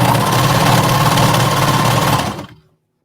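A sewing machine hems the edge of a knit agility tank top in a steady, loud continuous whir, running alone without talk before stopping abruptly near the end.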